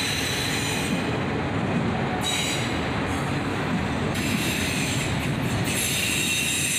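A southbound autorack freight train led by two ET44AH locomotives rolls past close by, a steady loud wash of wheel and car noise with faint high wheel squeal threading through.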